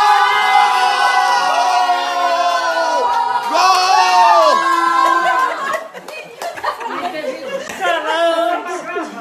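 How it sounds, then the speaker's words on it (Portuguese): A group of neighbors watching a Brazil versus Mexico football match cheer and shout with laughter and chatter, a loud close crowd of voices throughout. "Vamos gritar gol, porque ela vai gritar também"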